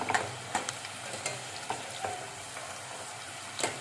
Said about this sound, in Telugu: గోల్డెన్ బ్రౌన్ కలర్ వచ్చే వరకు ఇట్లా ఫ్రై చేసుకోండి.